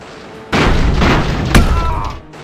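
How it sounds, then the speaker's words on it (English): Bombs dropped from an airship exploding in the strategy game Airships: Conquer the Skies: a deep boom followed by a sustained rumbling roar and a second sharp crack, loud and close, trailing off at the end. "We could just drop bombs on you with impunity."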